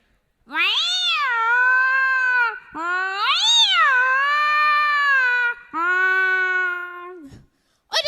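A mimicry artist imitates cats fighting, with three long, loud, rising and falling yowls and caterwauls that run almost without a break, close and alone.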